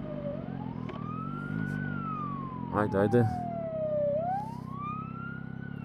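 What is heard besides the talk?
ambulance siren passing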